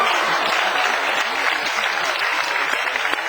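A television studio audience claps in dense, lively applause that stays loud and steady throughout, with faint voices underneath.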